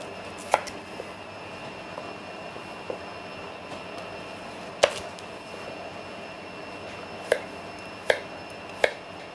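A knife slicing the tail end of a carrot into rounds on a cutting board, with a handful of sharp, isolated chops spaced irregularly over quiet room tone, no voices.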